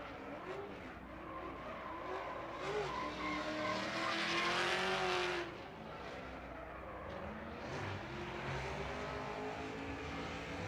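A Corvette drift car at a Formula Drift night event in Las Vegas, engine roaring with tires squealing and skidding, peaking loudest midway as it slides past, then settling into a steady engine drone.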